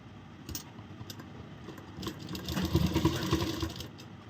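A sewing machine stitches down the centre of a double-folded one-inch fabric strip for a corset blouse, its steady fine whir running throughout and growing busier and louder midway.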